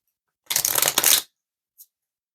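A deck of oracle cards shuffled for a nine-card reading, one crisp riffling burst lasting under a second, close and clear against silence, with a soft tap shortly after.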